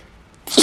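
One sudden sneeze from a person, close and loud, after a brief quiet moment.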